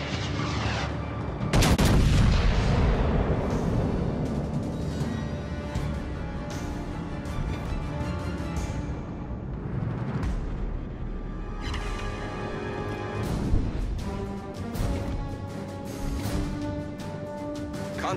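Naval gunfire from warships in World of Warships: Legends, with loud, deep booming salvos that roll into a sustained rumble of explosions and battle noise, under a continuous layer of game music.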